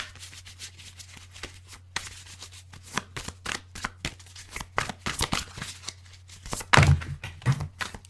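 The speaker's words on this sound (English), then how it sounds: "3 more shuffles." Tarot cards being shuffled by hand in repeated riffling bursts, close and fairly loud, with a few sharper slaps toward the end and no talk.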